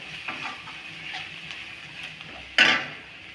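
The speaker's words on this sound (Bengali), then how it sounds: "মশলাগুলো দেওয়ার পর আবারও ভালোভাবে মিশিয়ে নেওয়া হচ্ছে।" Okra is stirred in a pan with chili, turmeric and coriander powder, producing faint scraping and clinking of a utensil against the pan, ending in one louder metallic clatter.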